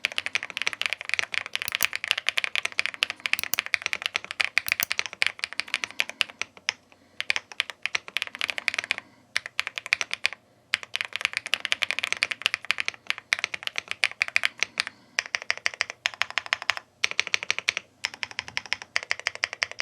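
Rapid clacky typing on a mechanical keyboard, close and crisp, in bursts with a few short pauses between runs of keystrokes.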